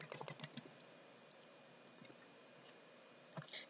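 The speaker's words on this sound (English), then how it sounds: "Bear with me, I'm typing." Computer keyboard keys clatter in quick bursts, with a busier flurry at the start and another near the end, fairly quiet and close with no voices.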